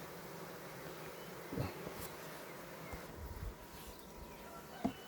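Honey bees hum at an open hive in a steady, dense drone close by, with a few soft knocks and brief sharper sounds over the buzzing.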